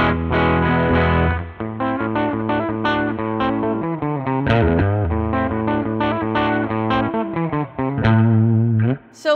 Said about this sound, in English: And let's hear the bridge pickup by itself.